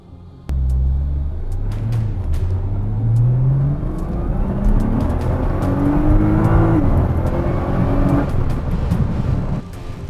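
Nissan GT-R with automatic paddle-shift transmission pulling away and accelerating, its engine rising through the gears in a deep, loud, rising rumble heard from inside the car, with a steady cabin drone in between.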